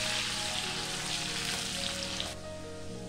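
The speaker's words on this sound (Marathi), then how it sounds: "हा लसूण थोडासा अर्धा मिनिटभर थोडासा आपल्याला परतून घ्यायचा आहे।" Crushed garlic and cumin seeds sauté in hot oil with a loud, close, even sizzle. The hiss runs unbroken, then dips slightly in level toward the end, and no one speaks.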